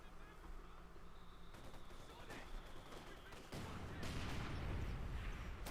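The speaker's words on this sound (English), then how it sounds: "Lots of artillery fire between these two opponents" Artillery and gunfire rumble through a Company of Heroes 2 match between OKW and UKF forces, with booming impacts and crackling shots that thicken into a heavy, continuous barrage toward the end.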